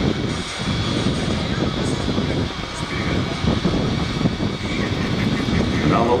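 Engine number one of a Douglas DC-2 aircraft cranks and sputters into life with a rough, uneven droning rumble at an airfield, while someone talks over the noise throughout.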